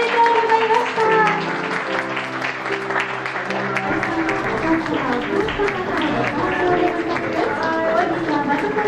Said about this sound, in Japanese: どうぞ皆様、お二人に本日一番の拍手をお願いいたします